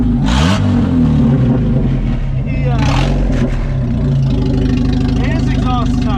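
A Jeep engine with its exhaust detached roars loudly and raw up close, revving in several bursts over a rumbling idle, with people talking over it.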